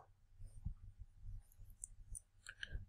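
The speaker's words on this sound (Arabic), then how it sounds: "كليك" Faint computer mouse clicks tick a few times in quick succession, small and quiet against a low background rumble.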